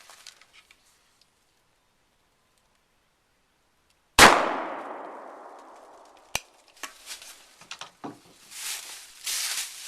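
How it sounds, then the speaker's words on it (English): A shotgun fires a homemade wax slug into boards at 10 to 20 yards, one sharp loud blast that rings off. Afterward come a clack and scattered rustling and handling noises. "The slug blew completely through both of them."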